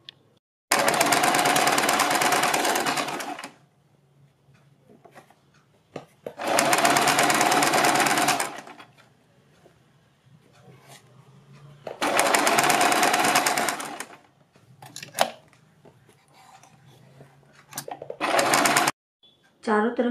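Domestic sewing machine stitching a fold along the edge of a suit or kurti neckline, running in three long loud bursts of rapid whirring with quiet pauses between, plus a shorter run near the end; a voice talks in the gaps.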